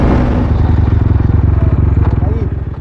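Yamaha MT15 motorcycle fitted with a 160 mm rear tyre, its engine giving a loud, steady, rhythmic thrum close by while riding, with a voice talking over it.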